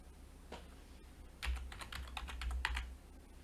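Typing on a computer keyboard to enter a program name in a search box; a quick run of soft, close key clicks after a single early tap, quiet against faint room hum.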